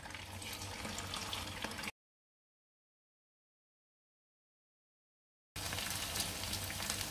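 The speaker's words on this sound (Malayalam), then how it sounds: "അത് ഓരോരോ പീസസ്സായിട്ട് നമുക്ക് ഫ്രൈ ചെയ്യാനിടാം" Coated Katla fish pieces sizzling in hot oil for restaurant-style chilli fish, a steady bright crackle that cuts to silence for several seconds and then resumes just as strongly.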